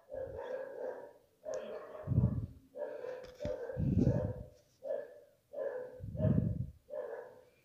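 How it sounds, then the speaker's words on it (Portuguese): Dogs bark in a repeated series of roughly eight loud, throaty barks at an even rhythm, fairly close, with short pauses between them. "enquanto eu suporto os latidos dos cachorros"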